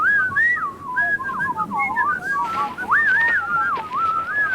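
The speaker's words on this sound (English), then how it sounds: "Is he whistling an Elliot Carter tune?" A man whistles a wavering, sliding tune, loud and close, with steady phrases and no other sounds over it.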